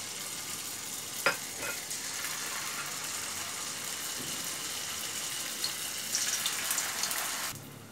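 Semolina gulgule batter frying in hot oil, a steady broad sizzle throughout with a couple of sharp clinks and small bursts of extra crackle near the end before it cuts off.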